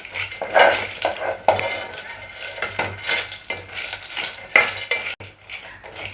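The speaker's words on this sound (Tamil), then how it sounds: "இப்போ நம்ம வறுத்த வேர்க்கடலையை இதில் சேர்த்துப்போம். ஒரு 2 நிமிஷம் வதக்கி விட்டுப்போம்." Roasted peanuts sautéed with onion in a pan for peanut chutney, heard as close clattering of a metal spoon against the pan with soft stirring scrapes and a faint sizzle, irregular and without talk.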